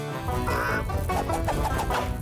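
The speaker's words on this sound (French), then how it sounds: "Oh, les poules se font la malle." Fleeing chickens in a cartoon cluck and squawk in a busy flurry, several birds at once, loud and agitated over a dense background.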